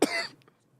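A man coughs once, sharp and close, the sound fading quickly into silence.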